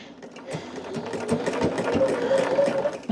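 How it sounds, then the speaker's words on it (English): A sewing machine stitches a charm pack quilt at a quarter-inch seam, a steady mechanical whir with rapid needle rhythm that speeds up and grows louder toward the end, close and alone. "Now I am sewing everything at 1/4 of an inch."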